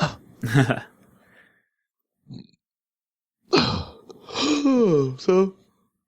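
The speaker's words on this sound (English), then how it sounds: "Why are you yawning on a podcast?" A person yawns in a drawn-out, sighing breath with a rising and falling voiced tone, close to the mic during a casual podcast, with other talk and breathy sounds around it.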